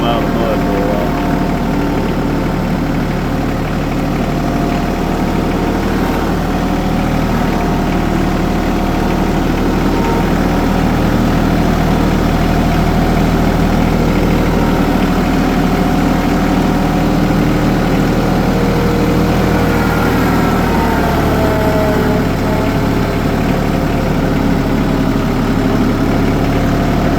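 A tractor engine idles steadily with a deep, constant rumble and low vibration throughout, loud and close, with no change in pace.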